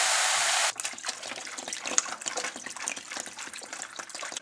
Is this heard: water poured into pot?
yes